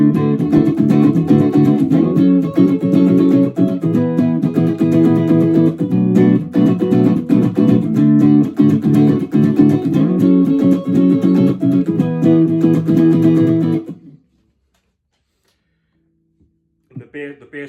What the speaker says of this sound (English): so playing the full voicing of the chords,